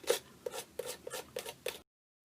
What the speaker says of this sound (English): I'm just going to spread it thinly through the stencil with my palette knife.